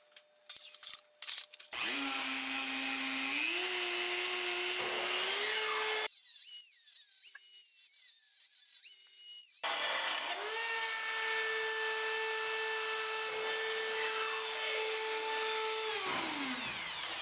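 A Dremel rotary tool with a cutting wheel grinds loudly at close range while building a welding table, a high whine rising and falling through several long cutting passes separated by a short pause, with no talking.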